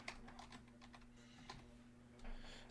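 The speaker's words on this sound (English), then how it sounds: "let me go ahead and type that in." Keys on a computer keyboard are tapped close by in a quick, uneven run of light clicks over a low electrical hum, with no voices.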